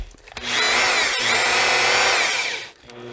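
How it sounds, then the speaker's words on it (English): A power drill drives a screw into basement drywall with a loud, steady whine that holds for about two seconds, then winds down and stops. "Now you notice I'm actually putting in my screws fairly tight"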